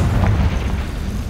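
A Confringo fire spell bursts in Hogwarts Legacy with a single rumbling, boomy explosion that fades into a low, noisy roar.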